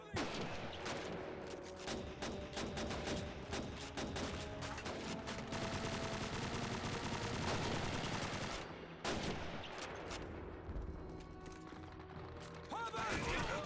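Heavy, chaotic gunfire in a Call of Duty battle with Russian troops, loud rapid volleys and bursts throughout, joined by crashing impacts, with shouted voices mixed into the din.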